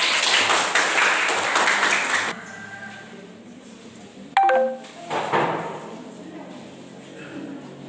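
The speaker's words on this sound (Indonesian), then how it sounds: "Tepuk tangan buat kelompok." Applause from a classroom audience for a student group during a teaching-practice lesson: a dense burst of clapping for about two seconds that stops abruptly, followed by a quiet room with a brief bright ping and faint voices.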